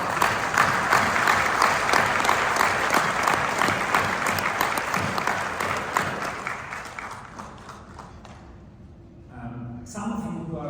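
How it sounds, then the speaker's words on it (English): Audience at DocuWare's DocuWorld US conference applauds loudly, then the clapping gradually fades over several seconds into quiet before a voice begins speaking at the end. "I also would like to give you a big applause."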